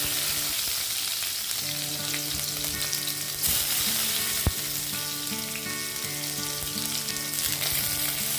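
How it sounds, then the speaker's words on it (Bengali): Chopped garlic dropped into hot mustard oil in a wok, crackling and sizzling loudly and continuously, with a single sharp tap midway and no voices. "এবার তেলের মধ্যে দিয়ে দেব কিছু রসুনের কুচি"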